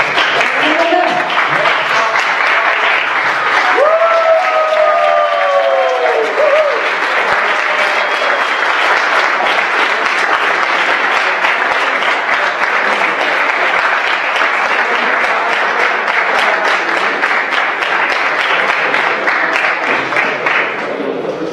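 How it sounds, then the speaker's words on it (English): Steady, loud audience round of applause at a Startup Weekend event in Zilina, with a few whoops and cheers rising early on, continuing unbroken throughout. "the second runner, round of applause."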